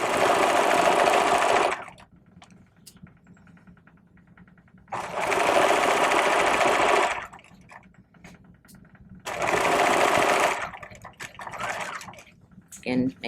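An electric sewing machine runs three loud stitching bursts of about two seconds each along a vest bag lining seam, separated by quieter pauses with faint handling and a voice.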